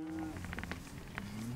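Cattle being driven on a ranch let out a faint, drawn-out low moo at the start and another near the end, with scattered rustling and soft noises in between.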